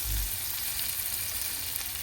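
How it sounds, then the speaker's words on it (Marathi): Fish frying in a pan, giving a steady close bright sizzle that holds evenly throughout with a faint low rumble at the start. "फ्राय ते मच्छी."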